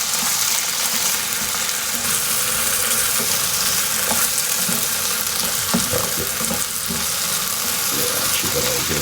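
Chopped tomatoes sizzle and fry in a pan while being stirred for an Afghani breakfast dish, a loud, continuous hiss with intermittent scraping and clinking of the spoon against the pan.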